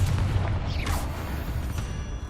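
A Confringo blasting spell explodes in Hogwarts Legacy, a loud fiery burst with a sweeping whoosh over a constant low rumble, lasting about two seconds with no talking.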